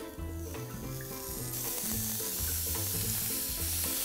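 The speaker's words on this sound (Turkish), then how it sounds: "Tavam var, tavam gayet sıcak. Ve direkt bu etleri hiçbir şey yapmadan bu tavanın üzerine koyuyorum." Thin slices of beef tenderloin laid straight into a very hot pan, giving a steady loud sizzle that swells and stays bright and close, with music playing underneath.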